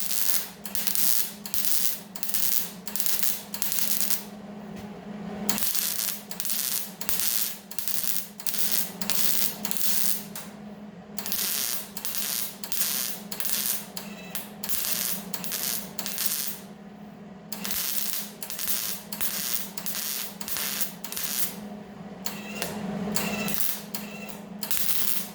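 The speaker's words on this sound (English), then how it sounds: "I'll just turn around, go ahead now and get that all welded up." MIG welding a new drip rail section into a rusty car body, a steady crackling buzz broken into repeated short bursts with brief pauses between welds, close and continuous across the whole stretch.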